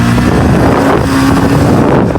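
A motorbike speeds along a paved road between Syangja and Pokhara, its engine drone mixed with heavy wind rush against the microphone, loud and continuous with no talk.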